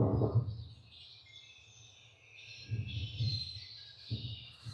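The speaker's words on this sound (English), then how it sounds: "the bird song that I could hear" Birdsong from a coastal rain garden site plays back as a thin, continuous chirping over heavy low wind buffeting that swells and fades.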